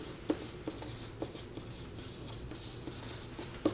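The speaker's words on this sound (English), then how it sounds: "So I'm going to write dependent for my answer." A pen or pencil writing an answer on paper during an algebra lesson, a soft continuous scratch with small taps at each stroke start, close up over faint steady room noise.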